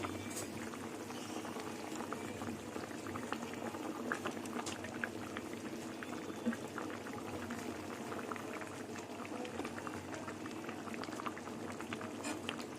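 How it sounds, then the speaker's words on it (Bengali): A pot of duck egg and potato curry bubbles at a steady boil, a dense close burble of popping liquid that runs on without a break, fairly quiet, with no voices. "ডিমের ঝোল ফুটে গেছে"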